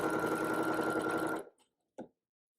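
A bernette b77 home sewing machine runs a steady, fast ruler-quilting stitch for about a second and a half. It stops abruptly, and a short mechanical clunk follows after a brief pause.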